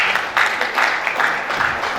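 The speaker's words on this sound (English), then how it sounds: "Round of applause" Applause from a workshop audience, a steady patter of many hands clapping close by, swelling and easing in waves for a couple of seconds.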